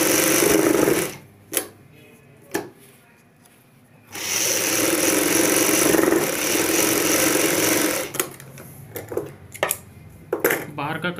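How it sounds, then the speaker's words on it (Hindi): Sewing machine stitching fabric for a front V-neck garment, running in two long, loud, steady whirring bursts separated by a short pause, then giving way to a few clicks and handling noises. "यहाँ पर हम ब्रॉड लेंथ पूरी 7 इंच रखते हुए सिलाई लगाएंगे।"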